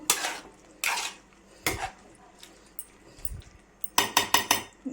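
Goat tripe curry stirred in a metal pot, a spoon clanking and scraping against the sides in bursts, ending in a quick run of four clinks.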